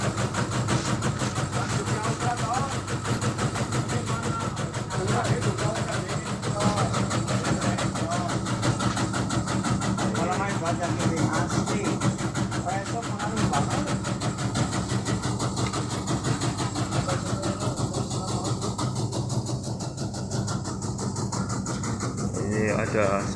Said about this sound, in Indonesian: Hari ini perajangan pakai mesin.